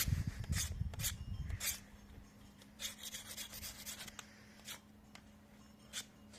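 Bamboo being cut and rasped to shape an arrow, giving quiet scraping strokes in short bursts, with a rougher rubbing start followed by intermittent filing passes close by and no voices.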